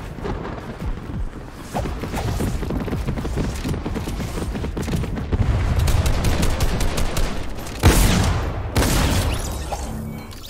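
Gunfire in a French-language online shooter video game match, rapid loud bursts of automatic weapon fire and booms running continuously, with a sharper heavy blast near the end.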